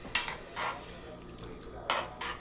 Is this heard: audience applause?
no